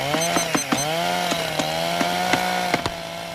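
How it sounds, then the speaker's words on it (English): A chainsaw engine drones steadily up close, its pitch dipping and rising in small surges with sharp clattering snaps throughout. "I told you to lose that chainsaw."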